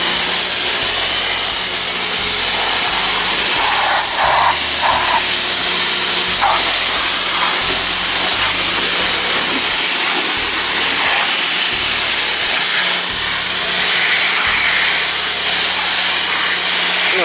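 High-pressure water spray rinsing the front of a 4x6 utility trailer, a loud steady hiss running throughout, close by, with brief shifts as the stream moves across surfaces.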